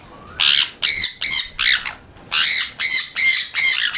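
A pet bird squawks loudly and close up, giving about eight harsh, evenly spaced calls in steady rhythm, with no voices.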